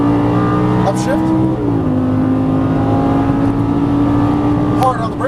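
A Lamborghini Gallardo LP550 engine drops in pitch at an upshift, then pulls hard and loud as it climbs through the next gear, with a driving instructor talking over the steady roar.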